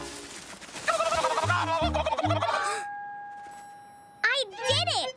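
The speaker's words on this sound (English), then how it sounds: "That's a turkey!" Loud, rapid turkey gobbling near the mic, a warbling burst, a pause with a faint tone, then another sharp gobble.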